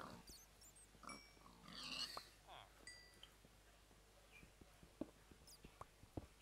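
Minecraft-style game pig oinks and grunts come in short bursts against a quiet background, with soft clicks and small blips scattered between them.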